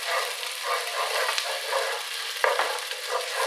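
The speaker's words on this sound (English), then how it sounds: "we're going to stir this round until the vegetables become red" Vegetables being stirred around a pan with tomato puree for a raw-style tomato soup, a steady close sizzle with soft scraping and a few sharper clicks of the spoon, no voices.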